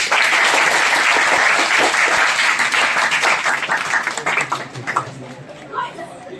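An audience claps loudly at a free-education event in India, a dense steady burst of applause that thins out toward the end, with crowd chatter and voices mixed in.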